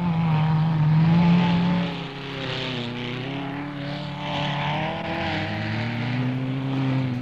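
Autocross cars leave the line in pairs at a Middlesex meeting, their engines making a steady, loud mechanical drone whose pitch rises and shifts as they accelerate away, with no voices over it.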